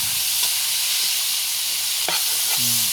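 Free-range chicken stir-fried with pickled bamboo shoots in a hot wok gives a steady, close sizzling hiss, broken by a few quick scraping stirs of the spatula near the end.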